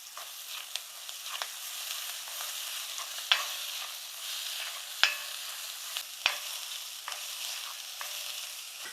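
Curry leaves with crushed ginger, garlic and green chilli fry in hot oil, a soft continuous hiss broken by occasional sharp spits and pops, with no talking.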